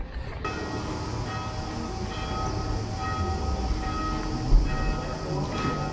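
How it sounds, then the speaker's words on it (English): Church-style bells ring from a town bell tower in Skradin, Croatia, at a distance, their tones hanging over steady outdoor ambience with a low rumble underneath. "It goes off several times a day."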